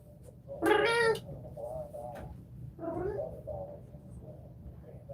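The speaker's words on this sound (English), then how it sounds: "we have a cat named Munchkin" A nearby cat lets out a loud, drawn-out meow, then a few softer, shorter mews over a low background hum.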